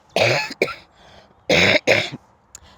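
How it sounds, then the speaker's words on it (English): A few harsh coughs in quick bursts, two clustered early and two louder ones later, with short quiet gaps between. "I'm going to cough."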